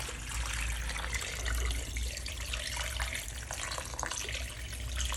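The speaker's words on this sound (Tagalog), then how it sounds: "Pupunuan natin 'to ng tubig." Tap water pours steadily into a cooking pot holding a whole chicken, a continuous close splashing fill with no talk over it.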